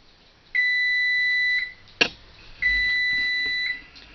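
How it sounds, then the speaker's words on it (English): Oven timer in a home kitchen, baking Boston brown bread with raisins, giving two long, steady electronic beeps separated by a short click, heard alone and fairly close. "our timer's going off"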